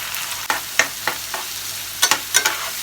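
Oil sizzles steadily in a pan as green peas fry with turmeric and salt, a spatula stirring and scraping in several short strokes, with a quick double scrape near the end.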